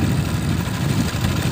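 Motorbike engine idling on a roadside, a steady low rumble held close and constant throughout.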